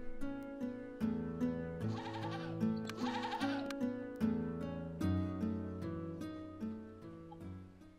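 Goats bleat repeatedly in wavering calls over steady rhythmic music, the cries overlapping in a loud cluster near the middle before fading back under the music.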